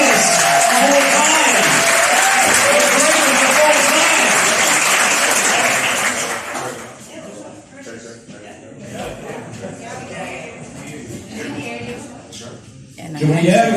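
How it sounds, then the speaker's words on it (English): Crowd applause at an event with Usain Bolt, a loud, sustained roar of clapping lasting about six seconds before dropping off to quieter room murmur and voices, with a brief swell of noise at the end. "give one more big round of applause"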